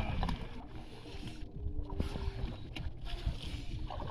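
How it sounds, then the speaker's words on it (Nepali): A boat rocks on Kulekhani lake, giving a steady wash of water and hull noise with faint wind, close and continuous throughout. "कुलेखानीमा साइले ढुङ्गा त अलिक हल्लिँदो रहेछ"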